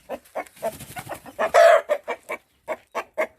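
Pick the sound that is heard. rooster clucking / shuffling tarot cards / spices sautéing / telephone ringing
rooster clucking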